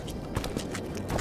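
Geralt's horse Roach trotting in The Witcher 2, a steady clip-clop of hooves at moderate distance with a faint background bed.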